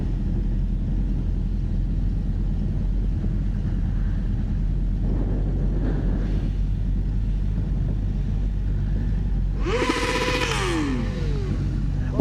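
A Honda CBR 600 RR motorcycle rolls across a grass lawn with a constant low engine rumble and wind roar close to the rider, and a brief rising rev surges in near the end.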